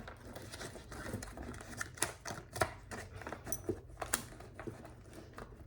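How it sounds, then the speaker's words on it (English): A deck of playing cards being shuffled by hand, giving a run of soft, rapid riffling clicks and flutters with a few sharper snaps, close and fairly quiet, with no talk over it. "Let me do a shuffle with it."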